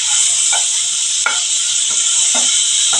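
Shrimp fry in hot oil alongside ridge gourd, giving a loud, steady sizzle with a few soft stirring clacks close by.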